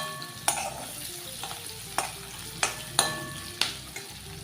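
Onions fry in a pan with a quiet steady sizzle, punctuated by about seven rhythmic scraping strokes of a spoon stirring them.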